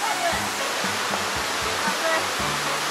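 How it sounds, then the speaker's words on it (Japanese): Waterfall in Shiretoko, Hokkaido, listed among Japan's top hundred falls, roars as a steady, loud broadband rush of heavy water with no break, the deep pounding low end rising and falling slightly under the constant spray. "日本の滝百選だって。"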